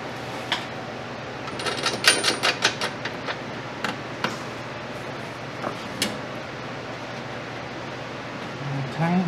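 Bolts are tightened on a John Deere L110 riding mower, giving a cluster of sharp metallic clicks and taps, then a few scattered ones over a low background hum.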